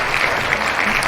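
Cheering and applause from a game crowd in FarmVille 2, a steady bright wash of clapping-like noise that holds for the whole moment at moderate loudness, with no voices over it.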